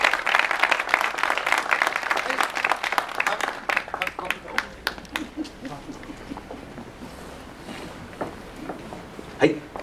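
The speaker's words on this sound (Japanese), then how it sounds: "彼らにも素晴らしい拍手をあげてください。" Crowd applause at a Japanese prefectural assembly election victory gathering in Saiki, loud clapping that thins out into scattered claps, with a voice talking and background murmur throughout.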